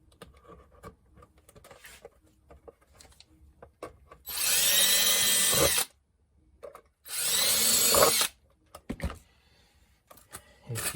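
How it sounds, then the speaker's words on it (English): A power drill bores out rivet holes in a metal AT-AT driver chest box, two loud whining bursts of about a second and a half each, separated by quiet handling clatter. "And we got to drill these holes out anyway,"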